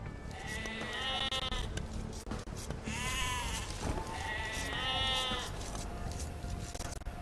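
Sheep bleat in Age of Empires 2 Definitive Edition, with several wavering calls close by. Steady game ambience and background noise run beneath them.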